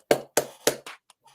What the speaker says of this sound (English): Can we give a round of applause for JP?